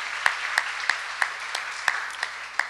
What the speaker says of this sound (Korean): 뜨거운 격려의 박수 한번 부탁드려도 될까요?